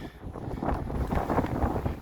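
Steady gusting wind on the Appalachian Trail mountains between Erwin, Tennessee and Marion, Virginia buffets the microphone with a low, rumbling roar throughout, no voices heard.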